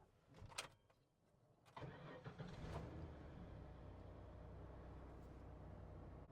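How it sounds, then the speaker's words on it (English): A Ford OBS pickup's engine, just back from an EGR valve repair, cranks after a few clicks and catches, then settles into a steady, close idle rumble. "So now we're ready to start the truck up."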